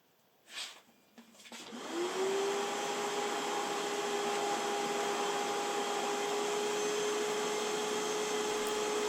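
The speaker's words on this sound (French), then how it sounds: "il est maintenant temps de tester l'aspiration maintenant avec du liquide" A Cecotec Triton 3-in-1 wet-and-dry vacuum cleaner switches on after a couple of soft knocks, its motor spinning up into a loud, steady whine that holds unbroken while it draws up liquid.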